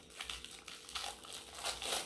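Soft crinkling and rustling of a package wrapper being opened around Christmas washi tape, continuous and fairly quiet, with irregular crackles throughout and no talking.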